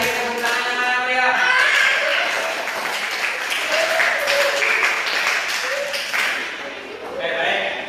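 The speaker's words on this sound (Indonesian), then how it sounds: "Sekali lagi tepuk tangannya ya." A classroom of pupils claps in a sustained, fairly loud round of applause, mixed with children's voices talking and calling out over it.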